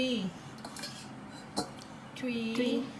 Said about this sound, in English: เอาช้อนตักเข้าไปในนั้นเลยค่ะลูก